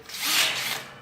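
A power drill fitted with a 7.5mm bit bores into a timber horse stable panel in one short, steady whirring burst that swells and then eases off, close and clear with no talk.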